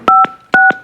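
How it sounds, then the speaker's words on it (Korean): Telephone keypad dialing for a call on a Korean TV talk show: two pairs of crisp, loud DTMF tone beeps, each short and evenly spaced, with no voices. "전화 연결 한번 해보시죠"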